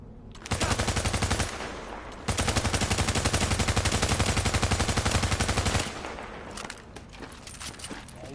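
Rapid automatic gunfire in the video game The Division, two long sustained bursts of closely spaced shots separated by a short pause, then scattered fainter shots trailing off.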